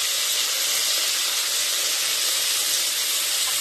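Gongura leaves frying in a hot pan for pachadi, a loud, steady, close hiss of sizzling that holds evenly with no pauses.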